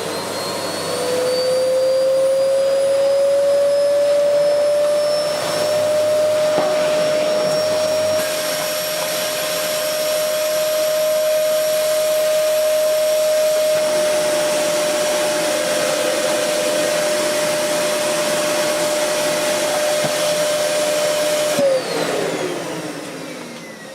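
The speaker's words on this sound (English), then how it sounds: "Let's do a little bit of vacuuming with it and see how well it works." A Hoover Dust Manager cyclonic cylinder vacuum cleaner runs at full power, a loud continuous motor whine that rises to a high steady pitch and holds, then winds down near the end, with no talking.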